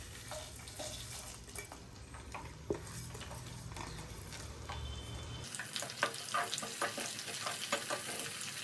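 Tempering spices of cumin, fenugreek, mustard seeds and green chillies frying in oil for snakehead fish curry, heard as a close, continuous sizzle with scattered crackles and utensil clinks that grow brighter partway through.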